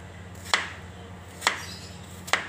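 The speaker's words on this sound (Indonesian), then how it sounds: "Lalu kita iris tipis-tipis." Raw papaya being thinly sliced with a knife, three distinct sharp cuts spaced about a second apart against a quiet kitchen background.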